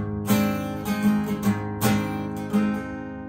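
Guitar strings are strummed and picked in a loose rhythm, a few sharp attacks with ringing chords between them, close and fairly loud.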